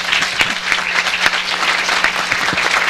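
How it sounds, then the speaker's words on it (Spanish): Audience at a criminal justice reform symposium applauds the panel speakers, a dense, steady round of clapping from many hands, loud and close, with no talk over it. "Los despedimos con un fuerte aplauso."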